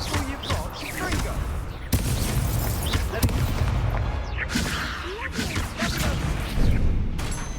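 Confringo fire spell blasts go off repeatedly in the Hogwarts Legacy video game, a series of sharp bursts and crashes amid busy combat noise, with voices talking over them.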